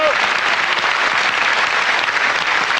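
A TV studio audience at a 1995 French comedy panel show applauds loudly and steadily, a dense wash of clapping that holds without a break.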